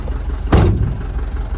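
A Mahindra Bolero pickup engine with a cut engine mount idles close by, a steady low rumble broken by one brief louder burst partway through, with no talk.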